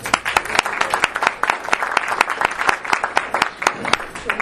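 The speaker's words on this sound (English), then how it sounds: "You guys deserve a round of applause" Steady applause from an audience at a community meeting, many hands clapping densely and evenly throughout at moderate loudness, with a faint murmur of voices underneath.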